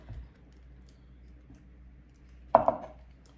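A knife cuts through a zucchini in a home kitchen, giving one sharp, close chop with a quick second tap after a quiet stretch.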